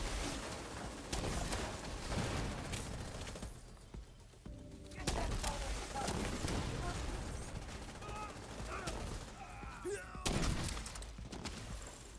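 Heavy mounted big gun firing in The Division 2, loud bursts of rapid gunfire in several sustained volleys separated by brief lulls, with faint voices in the background.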